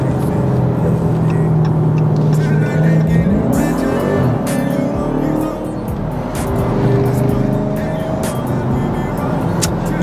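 A 2020 Dodge Charger Hellcat in orange drives with a loud, steady engine roar heard from inside the cabin, the pitch rising as it accelerates, with faint tire noise and occasional voices.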